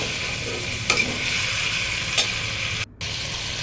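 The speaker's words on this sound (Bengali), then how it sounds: "তো মশলাটার সঙ্গে মিষ্টি কুমড়াটা খুব ভালোভাবে কষিয়ে নেব।" Pumpkin sautéed with spice paste and garlic in a pan for a shrimp curry, giving a continuous close sizzle with a couple of stirring scrapes and a brief cut-out near the end.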